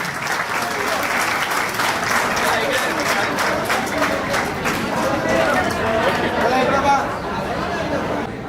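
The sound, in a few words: loud applause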